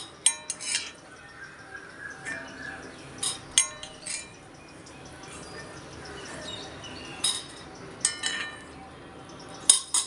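Fried sun-dried turkey berries being lifted out of a pan, with metal utensils scraping and clinking against the pan in scattered sharp taps over a faint background sizzle, close and fairly quiet.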